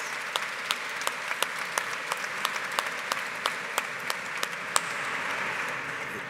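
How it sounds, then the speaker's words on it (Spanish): A conference audience at an energy-innovation talk applauds a speaker with steady, even clapping, a few sharper claps standing out over the sustained wash for about six seconds. "Un aplauso fuerte para él, por favor."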